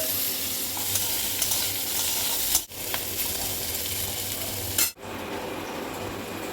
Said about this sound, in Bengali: আর ওদিকে এখন আমি বসিয়ে দিয়েছি কাঁকরোল ভাজা